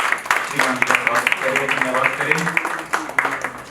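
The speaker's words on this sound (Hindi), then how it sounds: "एक बार पुनः जोरदार तालियों से" An audience at a Hindi poetry recitation competition claps in a dense burst of applause, while a speaker's voice runs over it at the start and the clapping continues underneath.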